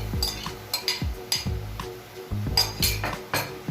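Metal spoon scraping and clinking against a pot while beef igado with pineapple tidbits and beef liver is stirred, repeated close knocks and scrapes in an irregular rhythm over a faint simmer, no talking.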